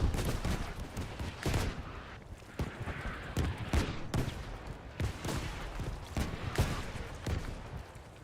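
Friendly artillery and gunfire in a video game crack out as a dense fusillade of sharp, repeated shots, some louder and nearer, with little or no talking.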